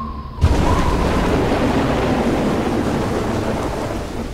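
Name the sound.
heavy rain and thunder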